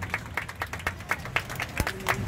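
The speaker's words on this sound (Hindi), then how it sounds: "तालियां मार लो," A small group claps in a steady, quick rhythm at a rainy outdoor medal ceremony for a swimming distance competition in Haryana; the claps are distinct and fairly close, with no cheering.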